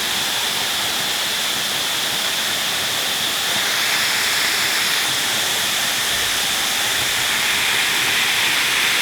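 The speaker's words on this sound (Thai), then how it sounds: "นี่คือ น้ำตกไส้น้อย น้ำตกไส้น้อย อำเภอ ไซโยก จังหวัดกาญจนบุรี" Sai Yok Noi waterfall in Sai Yok district, Kanchanaburi, Thailand, pours in a dense, continuous roaring hiss, steady and loud throughout with no voices.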